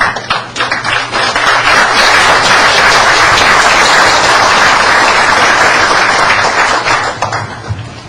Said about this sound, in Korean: 박수 받으십시오.